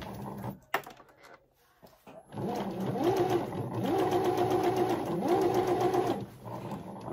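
A sewing machine stitches steadily over thick fabric, its motor whirring in a continuous near, loud run with rhythmic needle pulses after a brief start and pause.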